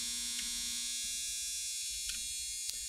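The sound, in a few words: dryer running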